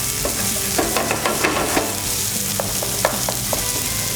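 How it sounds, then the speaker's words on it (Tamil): Onions sauté with cumin seeds in a hot pan, a loud, close sizzle broken by repeated clacks and scrapes of a spatula stirring in an uneven rhythm, with no talking. "ஜீரா ஓரளவு வந்ததுக்கப்புறம் நம்ம வெங்காயம் போட்டு நல்லா வதக்குறோம்"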